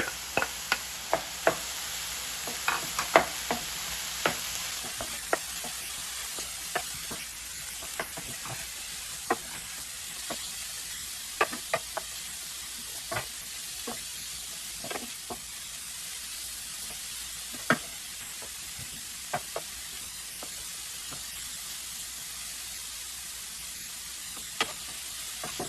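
Two cups of cauliflower rice fry in a pan under a steady, soft sizzle, with frequent light scrapes and taps from stirring scattered throughout.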